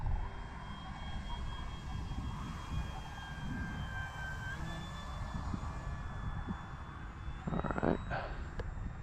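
A Tecnam RC model airplane flies overhead, its motor giving a steady whining drone with a gently shifting pitch over faint outdoor background noise, with a brief louder rustle near the end.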